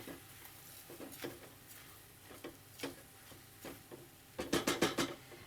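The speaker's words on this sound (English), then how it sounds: "Give that a little stir" Chorizo and lentils stirred in a pot: soft, irregular scrapes and taps of a spoon against the pot, building into a quicker burst of four or five clinks at the end, close and quiet.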